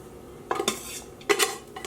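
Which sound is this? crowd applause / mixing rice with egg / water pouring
mixing rice with egg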